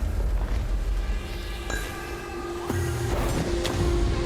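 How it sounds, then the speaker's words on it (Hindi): A booming explosion erupts in Minecraft as a dragon blows up a player, a loud sustained rumble with sharp bursts and game noise layered through it. "ओ नहीं, ड्रैगन ने जिमी को उड़ा दिया।"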